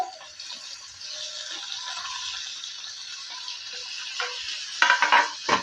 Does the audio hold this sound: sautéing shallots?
yes